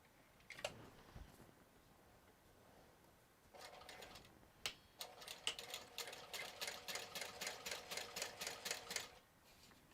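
A sewing machine top-stitches a waterproof canvas seam, faint at first with a few scattered clicks, then a quick regular run of mechanical stitch beats for several seconds before stopping.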